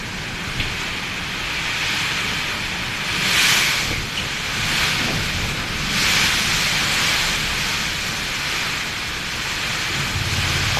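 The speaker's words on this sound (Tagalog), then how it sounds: "Kusog na yung hangin sa gawas guys." Strong typhoon wind blowing outdoors, a continuous hissing roar that rises and falls in slow gusts, moderately loud and heard alone.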